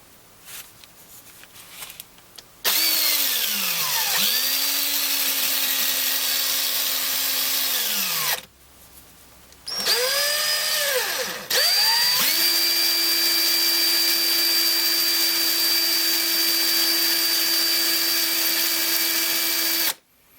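Silver spoon ring spinning on a power tool while being polished with a rag and compound, a steady high whine that stops briefly and restarts twice, loud and close.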